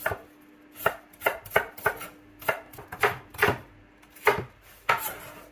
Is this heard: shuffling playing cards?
no